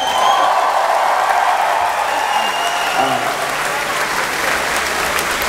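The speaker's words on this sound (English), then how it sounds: "Big round of applause" Concert audience at London's O2 Forum during a show breaking into loud, sustained applause with crowd noise, steady and dense from start to finish, with faint voices mixed in.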